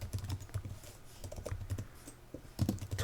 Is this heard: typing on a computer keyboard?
yes